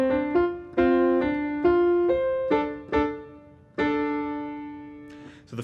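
Right-hand piano part of a song's riff, struck notes and short chords ringing out in a gentle, unhurried pattern with clear decays, played solo and close.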